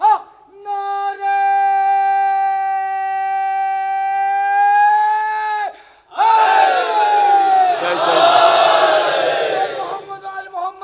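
At a Shia majlis gathering, a lone voice holds a long sustained chanted call, then after a short pause a large crowd roars back loudly together in a dense, surging religious slogan chant.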